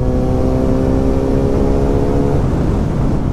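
An inline-four motorcycle engine fitted with an aftermarket exhaust drones steadily and loudly with a humming tone, which drops and roughens near the end as the rider rolls along a road.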